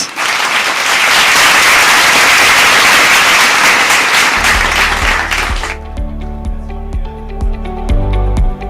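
Thunderous audience applause greets a guest at a digital marketing awards ceremony, loud and dense for about six seconds before giving way to a booming musical beat with scattered claps beneath it.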